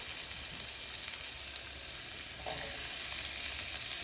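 Shredded cabbage fries in a pan for a Telugu cabbage curry, giving a continuous soft sizzle with a brief stirring scrape midway and no talking.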